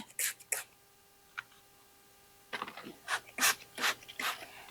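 Scale insects are rubbed by hand off a hoya plant with rubbing alcohol, making short raspy scraping strokes, a few separate swipes early and then a quicker run of close rubbing, with no speech.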